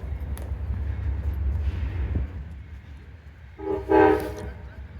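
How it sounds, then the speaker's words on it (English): The New River excursion train arrives in Hinton, West Virginia, a low rumbling engine and rolling cars close by, then a loud horn blast near the end, with brief talk in the background. "film that real quick as the train comes"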